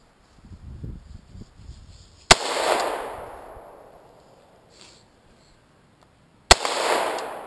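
Two loud AR-15 rifle shots fired from the hip, spaced about four seconds apart, each a sharp crack with a decaying echo, with brief talk before the first shot.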